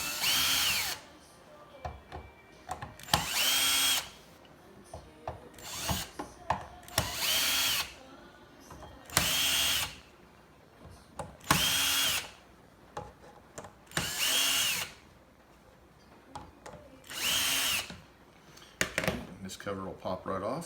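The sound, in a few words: power drill removing Phillips head screws from downrigger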